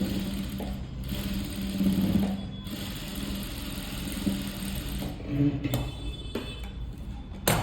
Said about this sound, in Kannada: ಈಗ ಇದನ್ನು ನಾವೇನು ಮಾಡಬೇಕಾಗುತ್ತೆ ನೀಟಾಗಿ ಮೇಲೊಂದು ಸ್ಟಿಚ್ ಹಾಕ್ಕೊತಾ ಇದ್ದೀನಿ